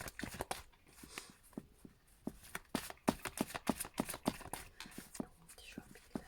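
Tarot cards are shuffled close by for a reading, a quick irregular run of crisp flicks, slaps and soft riffles with brief pauses between bursts.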